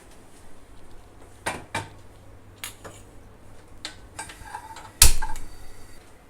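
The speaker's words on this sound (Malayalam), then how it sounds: "ഇനി നമുക്ക് ഒരു പാൻ അടുപ്പിൽ വെച്ച് മസാല തയ്യാറാക്കാം" A pan set on the stove for making masala for irachi puttu, with scattered metallic clanks and creaks, one sharp loud knock near the end, close by and without talk.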